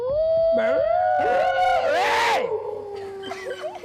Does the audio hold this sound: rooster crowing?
no